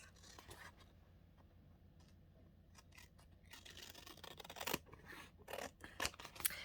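Scissors trimming a paper tag for a handmade journal, with quiet close snips and paper rustling that grow busier and louder toward the end.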